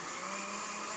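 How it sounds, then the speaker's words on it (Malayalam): A kitchen mixer grinder whirs steadily while blending mango with milk for ice cream, a loud continuous motor whine with no talk. "നല്ലോണം അരച്ചെടുക്കുക മിക്സിയിൽ"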